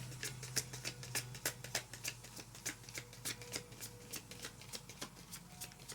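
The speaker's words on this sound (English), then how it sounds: "I was going to say I'm going to pull cards from 2 decks." Tarot cards riffled and shuffled by hand from two decks, a steady run of soft, close papery flicks and slaps with no talking over them.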